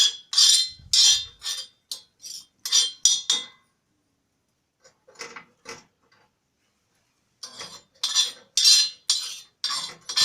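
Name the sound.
alum being roasted and stirred on a griddle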